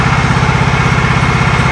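Kohler 17.5 hp engine on a 2007 John Deere L110 lawn tractor idling steadily up close, a loud, even, pulsing mechanical drone with no talk.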